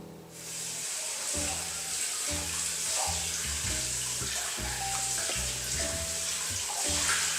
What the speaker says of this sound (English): And then run them under a cold water immediately.